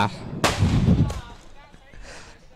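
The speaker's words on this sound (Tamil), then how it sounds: "இது வான வெடி இல்ல, கீழே வெடி. இது பவரான வெடி." A powerful ground firecracker bursts with one sharp, loud bang, its boom rumbling on for about a second before fading into background noise.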